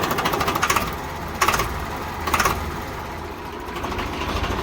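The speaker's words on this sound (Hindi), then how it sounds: "आज मैं इसकी आपको आवाज़ सुनाता हूँ, आवाज़ सुन के बताना कि कैसा है परफॉर्मेंस ट्रैक्टर का" Old tractor engine running steadily, a Swaraj 735 or New Holland 3630, 1999 model, with a rapid knocking diesel chug and a few louder bursts, heard close by and alone.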